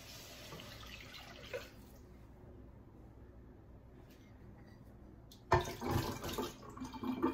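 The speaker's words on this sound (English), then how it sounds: "I'm gonna be adding in the chicken broth into mine." Chicken broth poured from a cup into a pan for Swedish meatballs, a soft liquid splash at first, a quieter lull, then a louder burst of pouring near the end.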